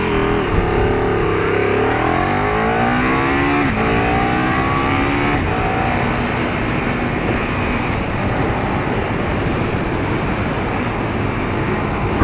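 A 2017 KTM Super Duke GT sport motorcycle's 1,301 cc engine roars and revs up, its pitch climbing through quick-shifter gear changes before settling into a loud, sustained drone close by.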